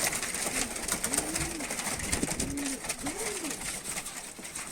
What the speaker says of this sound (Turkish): Evet gazi kollu kuşlar.